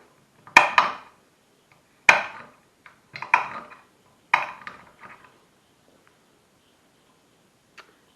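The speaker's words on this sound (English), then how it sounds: "So we keep cutting the chocolate nice." A knife chopping chocolate on a board for a tray bake, a handful of sharp, close cutting knocks and crunches in short bursts separated by quiet pauses, with no voice.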